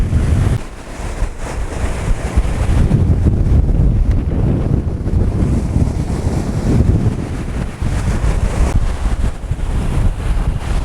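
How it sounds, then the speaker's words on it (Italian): Strong wind buffets the microphone with a constant low roar and rumble, gusting throughout, during summer-storm surfcasting on the shore. Rushing water sounds faintly underneath. "Si è messo sto vento fortissimo"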